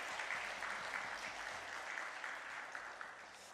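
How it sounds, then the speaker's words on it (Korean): A congregation at a Sunday church service claps steadily, a dense patter of applause that stays even throughout. "우리 박수로 한번 환영하겠습니다"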